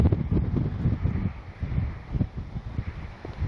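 Gusty wind buffets the microphone at an RC plane flying field, producing loud, low rumbling bursts that rise and fall irregularly, with no voices.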